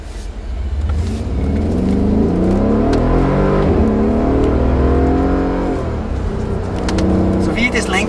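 Mercedes G63 engine droning and revving steadily on a test track, loud and close from inside the cabin, with a continuous rising and falling tone and tire and road noise.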